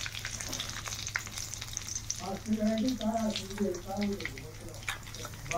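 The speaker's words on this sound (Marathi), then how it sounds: "जिरी मोहरी भाजली." Cumin and mustard seeds fry in hot oil in a home kitchen, a continuous close sizzle with stirring scrapes while someone speaks over it partway through.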